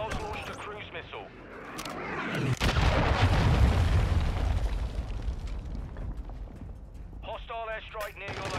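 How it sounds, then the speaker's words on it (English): A cruise missile explodes in the video game Modern Warfare 2 with a deep, rolling boom that swells and lingers for several seconds, framed by brief game voice announcements at the start and end. "Hostiles launched a cruise missile."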